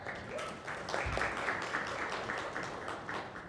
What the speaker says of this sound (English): let's give a round of applause to Dr. Oria